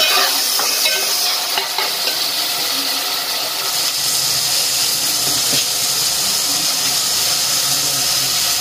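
Whole coriander seeds roasting in a pan, a loud, dense, continuous sizzle and crackle with occasional faint scrapes, close by with no talk.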